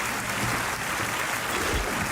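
Steady applause from a crowd at Summer Game Fest 2024, a continuous dense patter of clapping that holds at an even level throughout.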